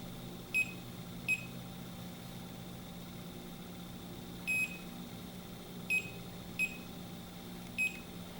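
A Bacharach Informant 2 refrigerant leak detector gives short, sharp electronic beeps, about six spread irregularly and sometimes doubled, over a quiet steady mechanical hum.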